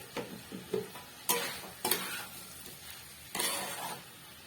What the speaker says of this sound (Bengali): এবার গ্যাসটা লো ফ্লেমে রেখে একটু ভেজে নেব